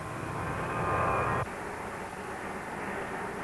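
Alpha Jet trainer aircraft with smokeless jet engines, a steady broadband roar that stays loud and then drops abruptly in level partway through, continuing as a lower, even hum with no voices.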